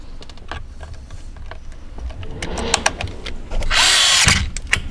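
A DeWalt power driver, used while installing a carbon steering wheel in a Mitsubishi Evo X, whirs in several short bursts with clicks between them, ending in a longer, louder run near the end.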